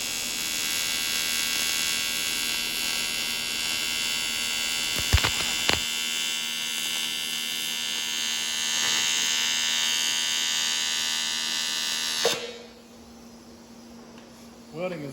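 Aluminum is being welded at about 120 amps, giving a steady, harsh electric buzz with a strong hum underneath. It holds for about twelve seconds, then cuts out abruptly and leaves quiet room noise.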